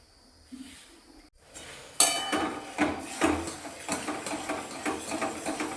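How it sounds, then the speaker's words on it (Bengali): Boiling mango pulp stirred in a pot: after a quiet start, a spoon scrapes and knocks against the metal in a steady, close rhythm over a bubbling background. "তো আমের পাল্পটা আমি ভালো করে নেড়ে দিচ্ছি, ভালো করে ফুটিয়ে নেড়ে নেবো।"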